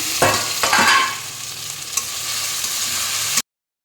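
Chopped tomatoes hit hot oil in a pan with mutton and potatoes, giving a close, steady sizzle with a few scraping stirs. The sizzle then cuts off abruptly into silence.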